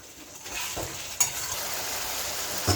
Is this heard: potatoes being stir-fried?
yes